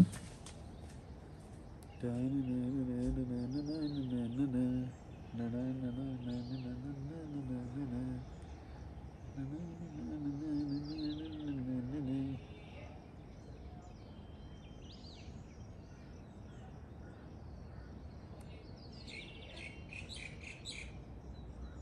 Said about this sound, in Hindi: चिड़ियाओं की आवाज़ बहुत अच्छी आ रही